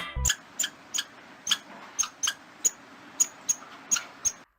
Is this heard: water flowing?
no